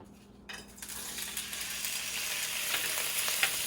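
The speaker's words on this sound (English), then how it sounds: "it does make the sizzling sound." Shrimp sizzle loudly in a hot wok while cooking fried rice, a steady crackling hiss that builds and continues after a quiet start, with occasional clinks.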